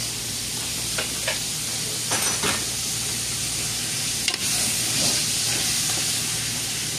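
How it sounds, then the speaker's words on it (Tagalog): Beef for beef pares hitting a hot pan, giving a loud, steady, hissing sizzle with a few clattering stir and utensil knocks throughout. "At ilagay na ang ating karne."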